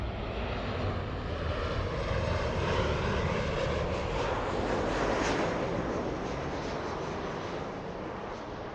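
An American Airlines airliner lands at LAX, its engines giving a steady, loud broadband roar that holds throughout and eases slightly toward the end.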